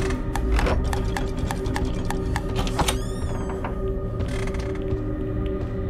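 A lever mechanism operated in the video game Room 817 gives a series of mechanical clicks and ratcheting creaks over a steady game music bed, with a short rising whirring sweep near the middle.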